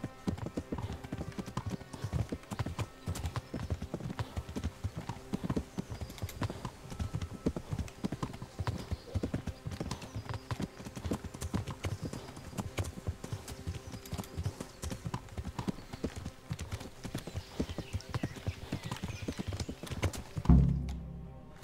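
Steady, rhythmic clip-clop of horse hooves trotting continuously over a busy soundscape in the video game Kingdom Come: Deliverance, ending with a brief thump near the close.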